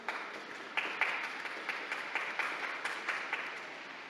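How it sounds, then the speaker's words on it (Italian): Audience applause at a papal Mother's Day address, a steady wash of clapping from a large crowd with a few sharper claps standing out, continuous and fairly distant throughout. "Un applauso alle mamme."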